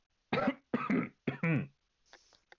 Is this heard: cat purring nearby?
no